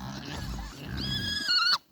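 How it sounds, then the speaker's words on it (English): Pigs on a snowy farm grunting and snorting nearby, a short run of low rough grunts ending in a higher squealing oink, with no talk. "Lots of pigs."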